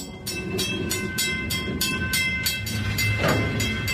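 A train rolls by loudly and close at Lac-Mégantic, Quebec, with rhythmic clickety-clack of wheels over rail joints and a steady rumble throughout.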